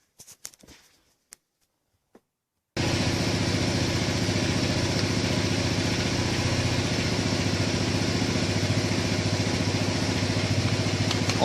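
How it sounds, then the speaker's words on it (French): Kymco 400 scooter engine started and idling just after an oil change, a few faint clicks and a short pause before a steady, loud, close mechanical idle with a rapid even pulse and light clatter. "maintenant on va faire tourner le scooter juste 30 secondes pour que le filtre à huile se remplisse"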